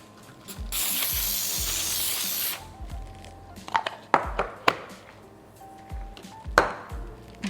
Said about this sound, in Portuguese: Eu estou usando spray, mas vocês podem usar manteiga, podem usar azeite, sem problema.